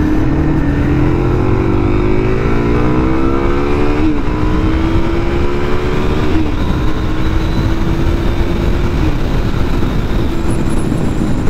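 A BMW S1000RR sport bike is ridden at Daytona Bike Week. Its engine roars loud and close without a break, the pitch climbing through the revs and dropping at each gear change, over heavy wind noise and with no voices.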